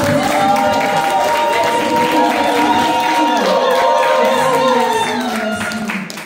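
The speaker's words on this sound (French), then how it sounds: "Est-ce qu'on peut applaudir?" Hall audience applauding and cheering loudly and continuously, with crowd noise, whoops and tonal sounds layered throughout before tapering slightly at the end.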